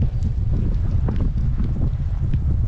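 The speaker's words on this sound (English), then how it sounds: "The wind is blowing." Wind blowing through a street in the Karoo town of Victoria West, South Africa, on a chilly day, a loud, rough low rumble buffeting continuously with no voices.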